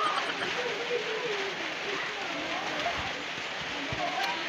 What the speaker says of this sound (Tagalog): Pero sige nag-ulan-ulan.